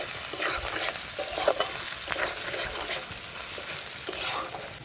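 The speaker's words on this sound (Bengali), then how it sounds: "লাউ রান্নার জন্য কাঁকড়া ভাজার মধ্যে দিয়ে দেবো কালো সর্ষে আর কটা শুকনো লঙ্কা" Black mustard seeds and dried red chillies sizzle in hot oil with frying crab for a bottle gourd dish, steady crackling with occasional stirring scrapes, close and continuous.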